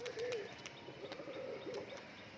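Large black-green pigeons coo softly in a loft, a few low rolling coos at close range over quiet background with light scattered clicks and rustles.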